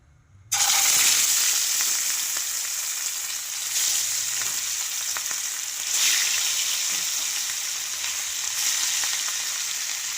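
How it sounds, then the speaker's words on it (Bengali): Catla fish frying in mustard oil in a wok: a sudden loud hiss as the fish go in, then a continuous crackling sizzle with a few louder surges as more pieces are added. "এবার আমি এর মধ্যে মাছগুলো একে একে ভেজে নেব"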